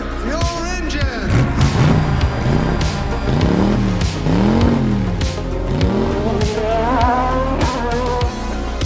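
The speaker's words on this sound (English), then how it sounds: "Drivers, start your engine!" A race car engine revving as a loud intro effect, with repeated rising and falling sweeps of revs and a squealing edge, filling the whole stretch.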